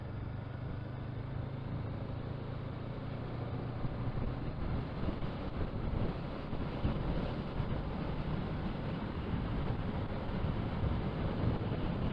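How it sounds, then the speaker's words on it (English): Wind buffets the microphone of a rider on a CBR motorcycle on a Staffordshire road, a continuous, loud, low rumble that swells slightly toward the end. "Sudden gust of wind"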